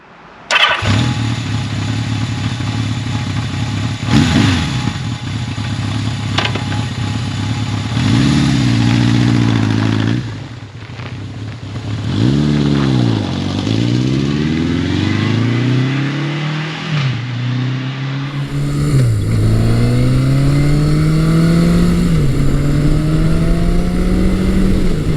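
A classic Yamaha superbike, fitted with a lower handlebar, starts up and is ridden, its engine revving repeatedly through rising and falling sweeps as it accelerates, with a brief dip before pulling hard again; loud and close, no talk.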